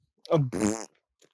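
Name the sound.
fart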